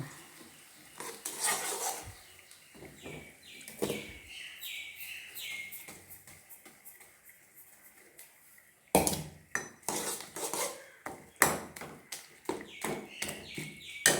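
Roasted flour being stirred in a pot, with irregular scraping and clinking strokes of a utensil against the metal, some sharp and close, in bursts and pauses with no talk.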